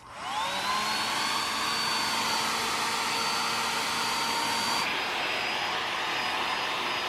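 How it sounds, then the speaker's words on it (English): A handheld blow dryer roars steadily and loudly at close range, blowing hot air on an aquarium reef mount, its whine constant with a slight change in tone partway through. "I'm just going to be using a handy dandy blow dryer"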